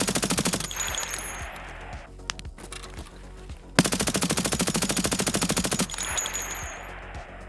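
An AS Val suppressed rifle fires in Insurgency Sandstorm, with two long, rapid full-auto bursts of close, evenly spaced shots separated by a short pause and a few stray clicks, and no talking.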